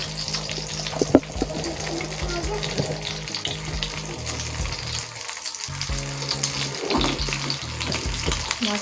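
Aloo tikki potato patties fry in a pan with a steady, close crackling sizzle that rises and dips over several seconds, with a brief clatter near the start and no talk.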